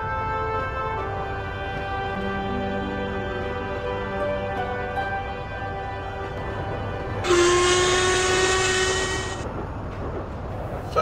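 Train engine moving in the Trainz railway simulator game, a steady low rumble with layered tonal drones, then a loud bright whistle blast rising over it for about two seconds midway, fading back into the running engine.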